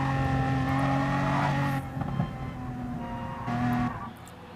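In a sim racing video game, a race car's engine whines loudly at steady high revs, then its tone drops as it passes, and a second, fainter engine surge follows before fading.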